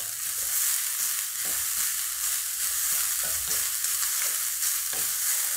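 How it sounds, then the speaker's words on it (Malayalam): Crushed coconut paste sautéing in a pan for Kerala-style green gram thoran, a dense, loud, continuous sizzle with soft scrapes of stirring running through it and no talking. "അരപ്പിട്ട് കൊടുക്കാം. ഒന്ന് വഴറ്റി കൊടുക്കാം."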